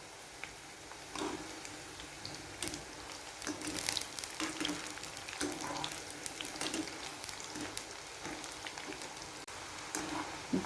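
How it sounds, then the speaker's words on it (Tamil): Yam pieces frying crisp in hot oil, a steady close sizzle and crackle with scattered sharper pops and an occasional stirring scrape, no voices. "பாருங்கள், கிழங்கு சூப்பராக ஃப்ரை ஆகிட்டுருக்கு."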